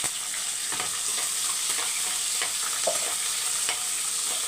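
Steady sizzling and crackling of small onions, green chilies and curry leaves frying in a hot pan, with occasional stirring scrapes, close and continuous.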